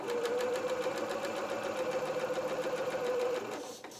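A sewing machine runs in one steady, continuous burst of stitching, sewing a holster trouser for a doll. The whir is close and even, then stops abruptly near the end with no talking.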